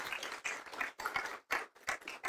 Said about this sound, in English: So really a huge applause for Bjorn for coming.